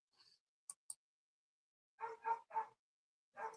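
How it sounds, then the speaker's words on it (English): A dog barks outdoors at another dog, faint and distant in an otherwise quiet room. A few short, scattered bursts come first, then a cluster of three barks and one more after a pause. "Damn dog outside will not shut the hell up."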